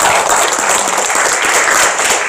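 Audience applause for guests at a launch ceremony, a dense steady wash of many hands clapping together, loud and close, without breaks for the whole stretch.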